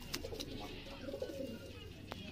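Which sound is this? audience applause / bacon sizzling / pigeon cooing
pigeon cooing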